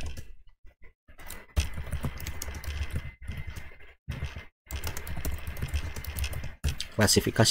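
Keys clatter on a computer keyboard while text is entered into an Excel spreadsheet, bursts of quick close clicks separated by short pauses, with a voice talking over parts of it.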